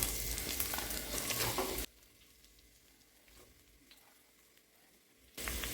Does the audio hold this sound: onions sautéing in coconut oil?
yes